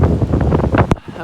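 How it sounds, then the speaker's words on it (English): Strong storm gusts batter the microphone on a mountainside in hail and snow, a loud rough roaring buffet that surges continuously and then briefly drops away. "we've got 70-mile-an-hour gusts blowing through here"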